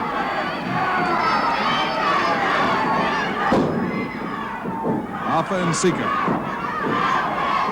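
A wrestling arena crowd at a 1981 Mid-South tag-team match chants and roars loudly throughout, with a voice speaking over the dense crowd noise.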